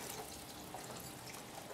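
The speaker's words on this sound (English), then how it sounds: "So I'm going to add water at this stage." Water pours into a cooking pot while a spring recipe is prepared, a soft, steady splashing stream heard faintly and close, with no voices.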